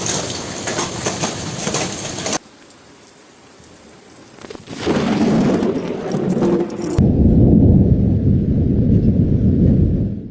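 Hail and heavy rain pound down in an extreme thunderstorm over Oise in France and Brussels, a dense roaring hiss with wind that drops away abruptly, then returns louder and steadier.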